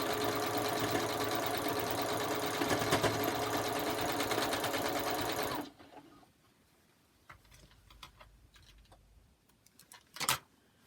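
A sewing machine stitches through a star quilt block in a steady, loud run for about five and a half seconds, then stops, leaving quiet handling noises and a brief clack near the end.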